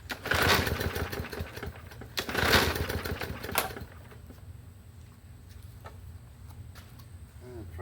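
A Murray 21-inch plastic-deck push mower engine sputters and coughs briefly on two pull starts without catching, followed by quieter handling noises and faint rattles.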